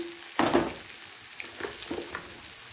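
Spices fry in oil in a pan for mutton kosha, with a brief burst of sizzling as they go in, followed by softer crackles and stirring scrapes, close and fairly quiet.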